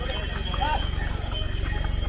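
Horse hooves clip-clop in a steady, quick rhythm on a mountain trekking road to Kedarnath, close and clear beneath a voice speaking.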